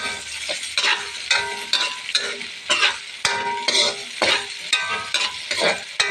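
Pancit ingredients being sautéed in a pan, with rhythmic stirring and scraping strokes repeating about once a second over a continuous close sizzle.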